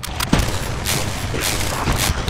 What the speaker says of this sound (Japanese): 銃声がもはやバルカン砲になってる。